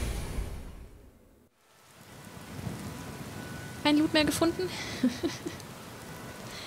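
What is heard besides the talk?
rain in video game Skyrim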